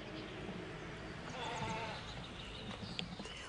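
A pygmy goat bleats against a noisy, hissing background at a Berlin zoo nursery; the wavering cry is moderately loud and lasts briefly.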